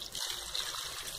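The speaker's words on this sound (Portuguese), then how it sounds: "Vou colocar água." Water pours steadily into a cooking pot of beans being made for freezing, a close, continuous trickling splash with no talking.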